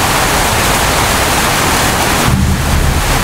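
Thunderstorm rain in Fort Kochi, Kerala during the pre-monsoon season: steady, dense hiss of heavy rainfall close to the microphone, unbroken for a few seconds, with a slight low rumble near the end.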